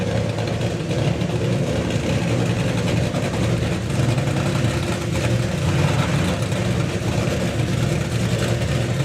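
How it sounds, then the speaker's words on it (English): Drag race car engine at the Bug Jam festival runs loud and steady throughout, a dense continuous roar with a strong low rumble and no clear pauses. "Car sounds real strong out there."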